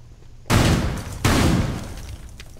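Gunfire in the video game Rainbow Six Siege: two loud, sharp bursts of shots about three-quarters of a second apart, each trailing off into a rumbling echo.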